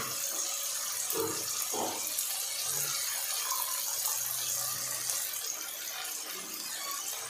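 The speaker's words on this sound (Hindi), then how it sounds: "हम पानी डाल लेंगे," Water pours steadily from a glass into a pot of green pulao rice with peas, a continuous close splashing gush lasting several seconds with no talking.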